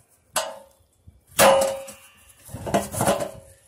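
Sharpened metal gnomon tip struck through a metal satellite dish, producing three separate ringing metallic clangs at close range, the second loudest, each with a short fading ring.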